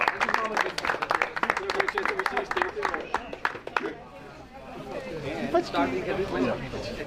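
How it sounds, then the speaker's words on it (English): Audience applause and clapping at a CRKC 2025 event, a crowd clapping in dense bursts under chatter and talk, fading after a few seconds into murmuring voices. "So one more time, round of applause."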